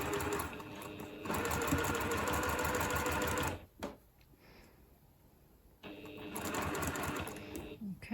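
Sewing machine stitching a quilt block seam, a fast steady mechanical whir that runs for a few seconds, stops briefly, then starts up again, close and clear.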